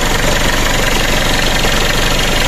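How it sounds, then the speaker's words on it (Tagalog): A loud diesel engine of a Mitsubishi Pajero 4x4 (4M40) idles close by with a steady, rough, knocking rumble that never lets up. "tunog ng makina niya"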